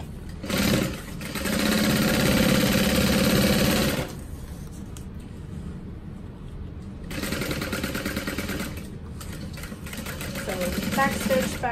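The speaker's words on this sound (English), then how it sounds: "we're gonna sew from the seam all the way back to the top" Sewing machine stitching a seam on a Sydney crossbody bag, loud rapid mechanical whirring in two bursts separated by a quieter pause, close up with some background noise.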